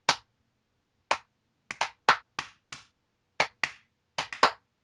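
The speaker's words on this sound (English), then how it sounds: "Can't even get your New Day clapping sync done" A podcast host claps out the New Day rhythm alone, a sharp uneven pattern of about ten close hand claps in small bunches with gaps between them and no talking.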